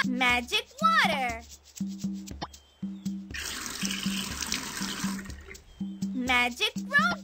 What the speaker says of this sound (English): Click on the watering can to water your plant.